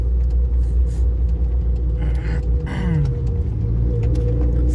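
Car engine revving up and accelerating in second gear while driving, a steady close rumble throughout with a rising pitch sweep near the middle; people talk over it.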